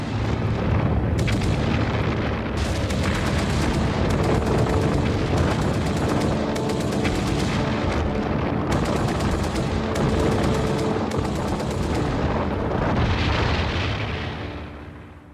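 Heavy bombardment of a beach during the Normandy D-Day landings, a dense unbroken roar of explosions and rattling gunfire, loud and continuous before fading at the end.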